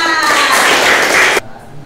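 A short, loud burst of classroom applause for a pupil, dense and close, cutting off abruptly after about a second and a half into quiet room tone.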